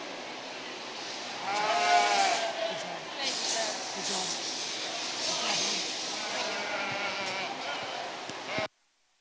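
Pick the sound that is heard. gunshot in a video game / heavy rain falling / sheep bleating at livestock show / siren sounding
sheep bleating at livestock show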